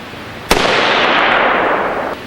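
AR-15 rifle fitted with a Troy dual chamber muzzle brake fires a single loud, sharp shot, its blast ringing and decaying over about a second and a half.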